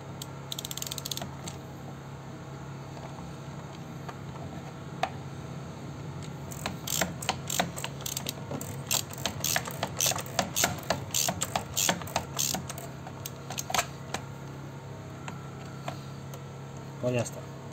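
An oil filter on an Opel Corsa being tightened with a wrench: repeated ratcheting clicks and creaking metal in a quick irregular series near the middle, over a steady low hum, with someone talking.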